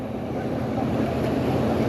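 Wake waves from passing boats wash against the shore or the anglers' spot during light spinning fishing, heard as a steady low splashing churn with wind buffeting the microphone, no voices.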